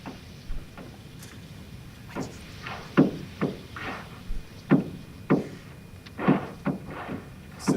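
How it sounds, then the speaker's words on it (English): Seismic recording of a volcano's ground shaking played back as sound, a series of sharp, irregular thumps and cracks with squeaky higher tones and deeper booms, spaced about every half second to second, fairly loud with no talk. "This is how the ground shakes on here, and this is loud, is squeaky noises, quite high frequency, and that's deeper noises there."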